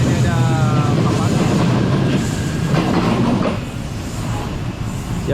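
A train at Bandar Tasik Selatan railway station in Malaysia rumbles steadily with clattering wheels and a brief squeal, loud and close, easing slightly near the end, with faint voices in the background.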